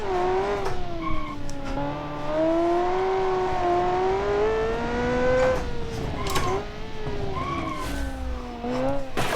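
A race-tuned car with downforce, built in Automation and driven in BeamNG, revs hard in a high gear with a wavering engine note. Tires squeal and skid under continuous driving throughout.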